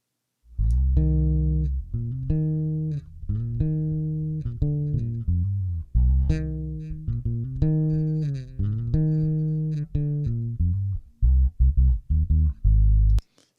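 A roots reggae mix of drums and bass, shaped with Renaissance EQ, pulses in a steady, loud groove of deep bass notes and rhythmic hits, with a brief choppy stretch near the end.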